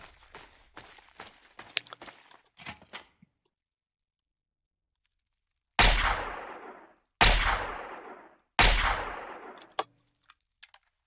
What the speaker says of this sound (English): We use this pistol for the moment because we've got plenty of ammo for it